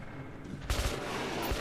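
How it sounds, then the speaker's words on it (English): Gunfire in the video game Metro Last Light Redux, a sudden loud burst that breaks in and keeps up as dense, continuous firing over a low rumble. "Oh, he's shooting."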